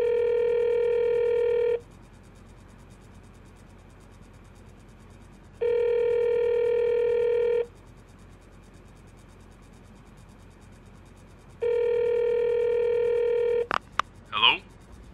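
Telephone ringing in a vintage radio drama: three long, even electronic rings separated by pauses, fairly loud and close, followed by a brief clatter as the receiver is picked up.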